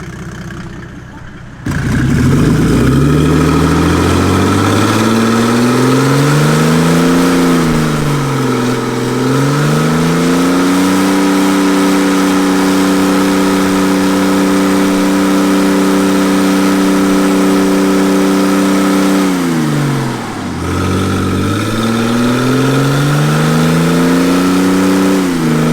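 A scrap Mercedes OM606 diesel engine with its exhaust cut off revs loud and close, rising and falling twice through strong harmonic sweeps before settling into a steady high drone, with no voices over it.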